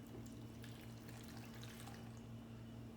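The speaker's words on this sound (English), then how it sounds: "I'm going to put in a cup of water" A cup of water poured steadily into a blender holding pineapple, ginger and cucumber, a continuous soft splashing stream with a low steady hum underneath.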